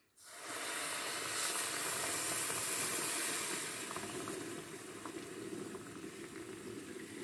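Water is poured straight onto sugar in a pan to start a syrup, a steady hissing pour that rises quickly, holds for a few seconds, then settles to a softer fizz with no talk.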